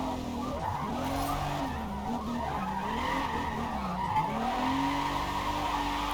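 Tires squeal and skid continuously as a car drifts in the racing game Forza Motorsport, running on stock tires with untuned gear ratios, the sweeping screech wavering up and down over a steady engine drone, loud and close throughout.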